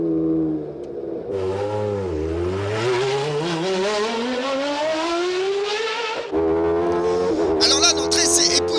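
A Peugeot 905 race car with a V10 engine accelerating hard on the Circuit du Castellet, a loud shrieking howl climbing steeply in pitch, a sharp gearshift, then screaming higher again, with a voice talking over it.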